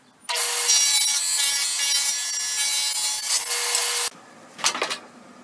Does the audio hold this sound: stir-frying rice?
no